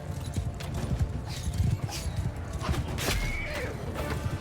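A horse neighs in a cavalry battle video game, its high whinny rising out of a constant din of hooves and fighting and trailing off after a few seconds.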